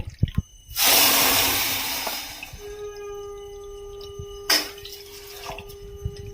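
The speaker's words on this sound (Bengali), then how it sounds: "চিনিটা ঢেলে দিচ্ছি আর ওই বাটিরই 2 বাটি জল দেব" Water poured from a bowl onto sugar in a large pot on a stove for syrup: a steady splashing pour starting loud then tapering, followed by drips and a second brief splash, close by.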